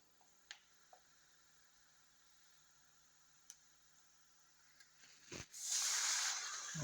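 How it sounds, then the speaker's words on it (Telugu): Water poured into a pan of wheat rava for upma after a few faint ticks, building into a loud, hissing pour near the end with no talking. "దీంతో 2 కప్పులు నీళ్ళు పోస్తా."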